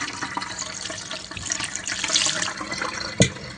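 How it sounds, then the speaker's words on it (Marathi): Water is poured over cream in a pot to rinse it for homemade ghee, a close, continuous splashing pour with a brief louder splash near the end. "अशा पद्धतीने सगळीकडे पाणी ओतून घ्यायचं."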